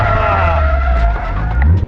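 A super low Nissan S14 drifting on a race track at an invite-only event, a loud, close, continuous tire squeal over a deep roaring engine for about two seconds.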